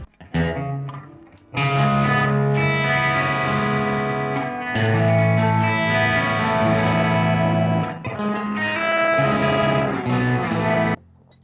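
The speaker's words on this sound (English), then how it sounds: "So the compressor is on, and then the reverb is on" A sustained electric guitar plays chords through a Nux Trident multi-effect with compressor and reverb on, a compressed, smooth tone and a wash of reverb, notes ringing out and blending for several seconds.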